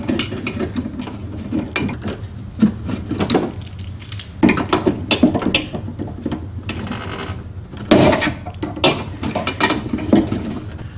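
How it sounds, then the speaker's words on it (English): Needle-nose pliers pry at a liftgate lock actuator clip on a 2002 Chevy Trailblazer, giving close, irregular clicks, snaps and scraping clatter in bursts across the passage, with no talking. "I'm gonna do two at the same time and see if that'll help me pry it out."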